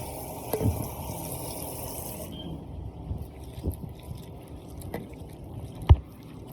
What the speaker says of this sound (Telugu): తర్వాత ఈ రేలన్నింటినీ మంచినీటితో బాగా కడిగాను అన్న